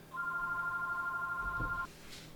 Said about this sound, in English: We'll wait for the ringing to stop.